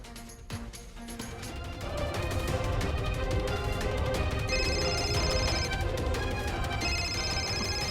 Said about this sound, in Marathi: माझा ना फोन वाजतोय